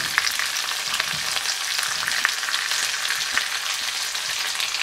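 Celery stir-frying with sliced pork and onion in a pan gives a steady, dense crackling sizzle with scattered sharper pops, close and continuous with no talking.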